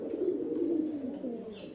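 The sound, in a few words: pigeons calling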